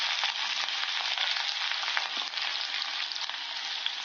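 Chopped onion and green chillies fry in a pan for a Kerala tapioca dish, giving a steady, close, continuous sizzle with faint crackles. No one speaks over it.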